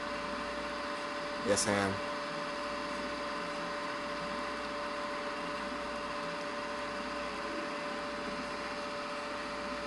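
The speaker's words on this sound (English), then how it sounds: "It's on full rev now." A Puma engine held at full revs gives a steady, sustained droning hum throughout, with a brief spoken voice early on.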